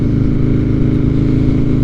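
A 2021 Harley-Davidson Street Bob motorcycle engine gives a loud, close, steady low rumble with an even throbbing pulse throughout.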